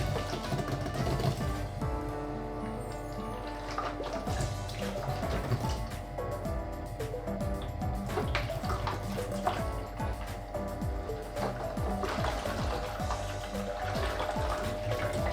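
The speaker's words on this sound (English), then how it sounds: "The water's making its way through now." Water is pumped from a Brewzilla Gen4 all-in-one brewer into a fermenter during a 10-litre hefeweizen brew day, a steady trickling, gurgling flow with small drips that runs continuously over a low mechanical hum.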